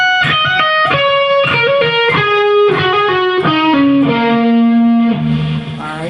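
Electric guitar through distortion and effects slowly plays a lick, with sustained, overdriven notes stepping downward and ringing out alone.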